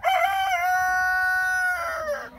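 One long, clear crow rings out from a rooster in a pen of Olivator chickens on a farm, loud and close, sustained and steady before trailing off, with no talking over it.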